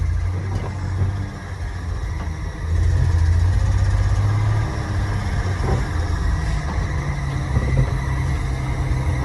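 Rusty old Ford truck driving: a steady, loud low engine drone and rumble that swells partway through and holds, with no voices.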